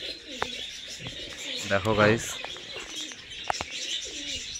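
Highflyer pigeons coo faintly outdoors in a short burst of throaty calls, with someone talking briefly over the birds and scattered chirps and clicks around.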